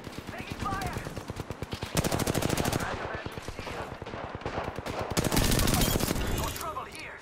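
Automatic weapon fire in the Apex Legends battle royale game, rapid bursts of machine-gun shots rattling in several long volleys with short pauses between them, loud and close, layered over game sound effects.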